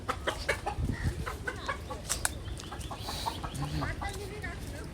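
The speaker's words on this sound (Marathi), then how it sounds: "कोंबडा आले" A rooster clucks repeatedly at close range on a farm, short choppy calls scattered over a noisy outdoor background, with brief human voices mixed in.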